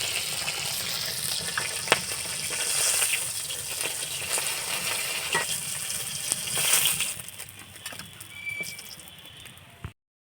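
Hot oil sizzling close by as fried fish heads are turned and lifted from the pan, a continuous crackle with a few small clinks that thins out toward the end.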